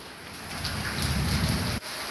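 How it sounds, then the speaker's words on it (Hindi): Heavy rain pours steadily in a village, with a deep low rumble of thunder swelling underneath before cutting off sharply, the downpour continuing alone. "काफ़ी तेज़ पानी बरस रहा है"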